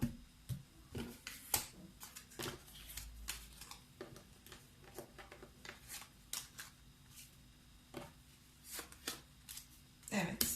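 Tarot cards, including Lenormand and energy decks, are shuffled and picked by hand: a run of crisp riffles, flicks and taps at an irregular pace over about ten seconds, close to the microphone.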